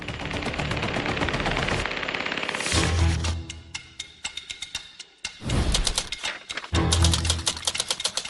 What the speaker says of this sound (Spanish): un arma devastadora que ningún soldado quiere ver enfrente. La ametralladora pesada.